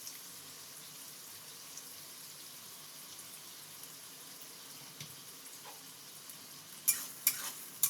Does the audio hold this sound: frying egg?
yes